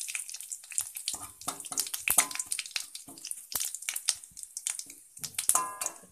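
Dry red chilli, five-spice and a bay leaf are dropped into hot white oil and sizzle, a crackling, spitting fry with irregular pops, close and moderately loud with no talk.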